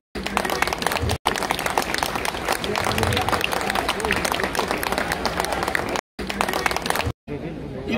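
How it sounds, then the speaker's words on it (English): Crowd applause at an outdoor Palestinian solidarity rally in Rochdale, a dense continuous clatter of many hands mixed with crowd noise and voices, broken by a couple of brief dropouts near the end. "She's given a round of applause"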